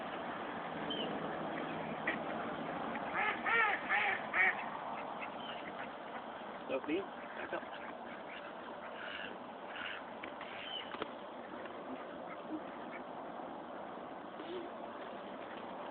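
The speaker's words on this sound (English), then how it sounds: "Throw them at the ducks." Ducks quacking in a lively cluster while being fed by the water, several quick calls in bursts partway through, with an adult and someone talking throughout.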